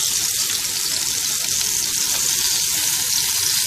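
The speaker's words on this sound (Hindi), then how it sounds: "इसमें ये कबाब डाल के फ्राई करेंगे" Kebabs fry in shallow oil in a pan, a loud, continuous close-up sizzle and crackle with no voices.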